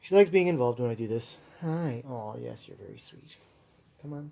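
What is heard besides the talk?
No everyday noises stand out.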